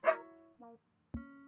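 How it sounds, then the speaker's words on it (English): Dogs barking at a delivery: three separate barks, close and fairly loud, with short silent gaps between them and no talk. "They tend to do this when we have any kind of delivery"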